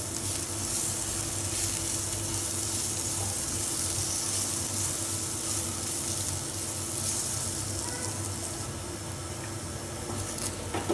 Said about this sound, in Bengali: হালকা আঁচে আমরা আলুগুলোকে ব্রাউন করে ভেজে নিব।